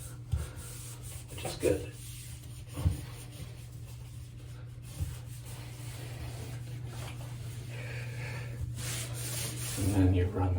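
A brush scrubs a clean bathtub in short, intermittent rubbing strokes against a steady low hum, and a person speaks briefly.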